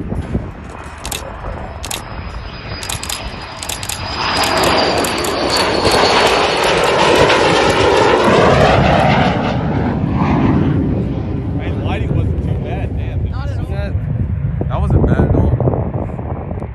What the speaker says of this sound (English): So we did film the A-4's landing